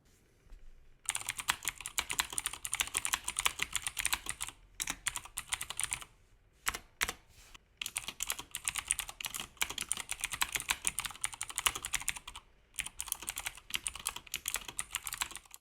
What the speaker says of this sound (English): Put it all together, and in theory, you've got yourself a working keyboard.